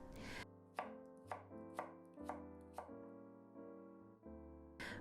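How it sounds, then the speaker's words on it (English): A knife chops daikon radish into strips on a cutting board while preparing Japanese ozoni mochi soup, about eight crisp, evenly spaced cuts, close and clear with nothing else heard. "For the daikon, cut into the same size or little larger."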